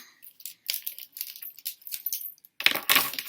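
Colored pencils spilling out of their box onto a surface, a quick run of light clattering clicks that ends in a louder tumble near the close.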